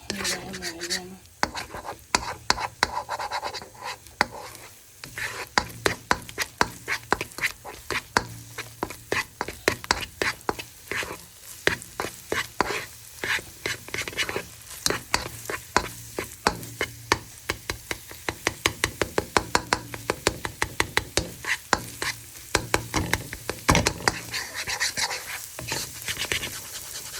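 Egg frying in a little oil in a pan while being stirred, with a steady sizzle under rapid, repeated scraping of a utensil against the pan, close and continuous throughout.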